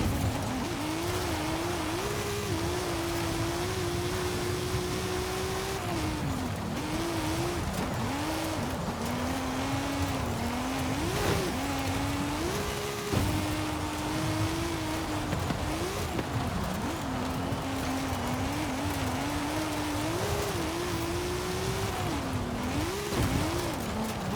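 A widebody Toyota GR Yaris in Forza Horizon 5 keeps up a steady buzzing engine drone, its pitch climbing and dropping through gear shifts and revs, with brief tire squeals and no talking.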